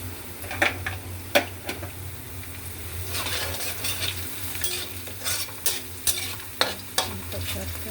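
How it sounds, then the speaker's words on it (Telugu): Chopped onions frying in a pan with a pinch of salt, a steady close sizzle punctuated by repeated sharp clinks and scrapes of a spoon stirring against the metal, with no voices. "ఉల్లిపాయలు వేగుతున్నప్పుడు కొంచెం సాల్ట్ వేస్తున్నాను."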